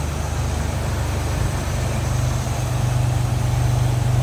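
A GM 3.8-liter V6 with HEI ignition idles smoothly in a 1949 Willys Jeepster, a steady, loud, low rumble heard up close and alone, with no voices.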